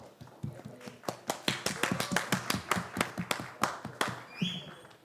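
Scattered, irregular hand claps from a small audience for actress Reem Sameer Shaikh on a TV show set, with sharp distinct slaps at moderate distance rather than a dense roar.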